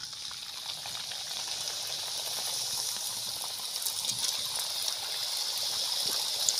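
Papri flour crisps frying in hot oil for aloo papri chaat give a steady, close sizzling hiss that runs unbroken from start to end, with no talking.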